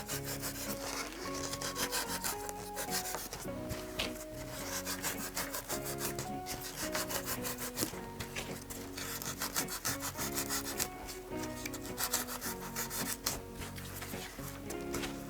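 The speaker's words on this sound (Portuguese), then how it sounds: "Vou tirar um pouco, né, da espessura dele, fazendo esse corte" A blade saws through a styrofoam Mickey figure, producing continuous rhythmic rasping and scraping strokes, close and steady throughout, with no talking.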